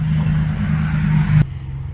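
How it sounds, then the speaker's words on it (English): Traffic on a busy residential street beside a garden, with a steady low engine drone from a passing vehicle that fades after a brief sharp knock near the end. "Excuse me for all the car noise."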